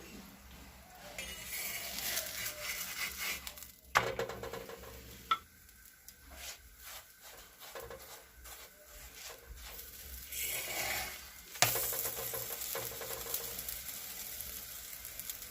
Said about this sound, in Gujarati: એક સાઈડ આપણે શેકાવા દેવાની છે, મીડિયમ ગેસ પર આપણે એને શેકાવા દેવાનો છે